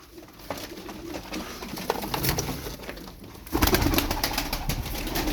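Tumbler pigeons coo softly in a low, rolling murmur, with occasional wing flutters and scattered clicks in the background.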